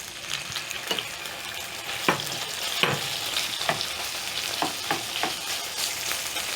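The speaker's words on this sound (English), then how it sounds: "once the oil is hot, I'm going to add in my liver" Mutton liver frying in hot cooking oil in a pan, a continuous crackling sizzle broken by several louder spattering pops and scraping stirs at irregular intervals.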